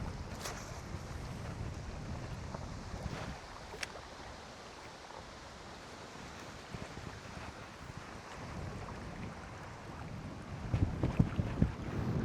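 Strong wind buffets the microphone during bass fishing on Soyang Lake, making a steady broadband roar with gustier, louder bursts near the end.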